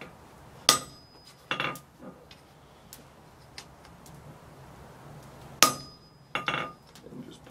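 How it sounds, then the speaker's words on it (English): A blacksmith drives a punch with a hammer to cut the slot in a forged bottle opener, giving two ringing metallic strikes about five seconds apart, each followed by a softer tap, over a quiet background. "and just punch your slot in right there."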